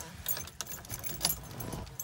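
Gold Cadillac car keys jangle on a Cadillac keychain, a close burst of bright metallic clinks and rattles in quick irregular succession.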